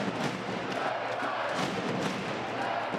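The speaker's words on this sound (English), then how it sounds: "Great noise from this Belgian crowd here in support of the home team." A Belgian volleyball crowd roars for the home team at a Champions League match in Roeselare, a thick, steady wall of cheering and shouting with scattered thumps, loud and continuous throughout.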